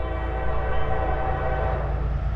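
A train rolls past in the village of Fairport with its horn blaring, a loud sustained tonal blast over the deep rumble of the railcars, continuous and close for the whole stretch.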